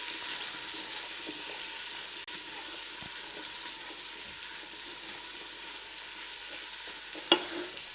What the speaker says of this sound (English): this will also be a good time to add some whole cumin. Let that bloom a little bit in the oil.